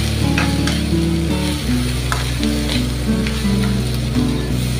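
Okra stir-fried in a pan with amchur and salt sizzles steadily and close up, with light stirring clicks and scrapes over a constant low humming tone.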